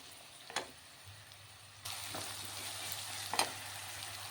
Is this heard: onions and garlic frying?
yes